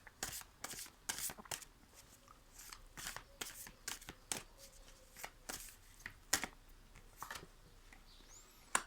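Cards being drawn and handled from a deck during a card reading, a string of short, crisp flicks and riffles at irregular intervals, close and fairly quiet, with no talk.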